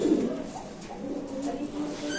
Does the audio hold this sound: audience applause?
no